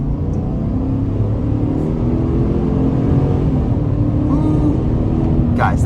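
A 2023 GMC Sierra Elevation X31 pickup with the 5.3-liter V8 accelerates on a multi-lane highway, its engine a steady, loud low drone blended with road and wind noise from inside the cab.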